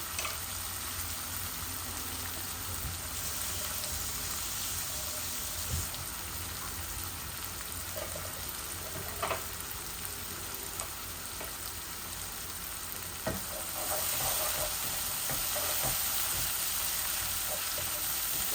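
Beef cooking in a pot sizzles and fries steadily throughout, a dense continuous crackle with occasional louder pops and stirring knocks, close and fairly loud.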